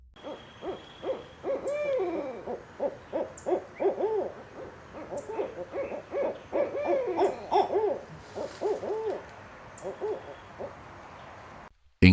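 Repeated soft owl hoots in a quick, bubbling series, close and clear against a quiet background.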